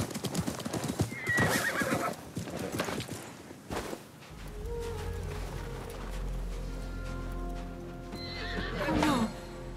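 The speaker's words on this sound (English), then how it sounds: "My father's horse!" Rapid hoofbeats of a galloping horse in the video game Assassin's Creed Mirage pound close by, then give way to a low rumble and a loud horse whinny near the end.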